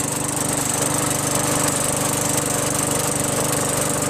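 A Craftsman push lawn mower with a 5.5 HP Tecumseh engine and 21-inch deck runs steadily at close range, a loud continuous rattling engine drone with no voices.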